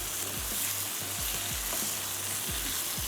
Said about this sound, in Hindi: हल्का सा भून लेते हैं